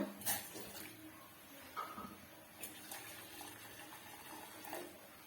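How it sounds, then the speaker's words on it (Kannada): Filtered water poured into an emptied vessel, later to be boiled with henna powder: a faint, soft trickle and splash with a few light knocks, quiet and intermittent. "ಇವಾಗ ಖಾಲಿ ಮಾಡಿ ಪಾತ್ರೆ ಇಟ್ಟಿದ್ದೀನಿ ಇದಕ್ಕೆ ಶೋಧಿಸ್ಕೊಂಡಿರೋ ನೀರನ್ನ ಹಾಕೊಳ್ಳೋಣ"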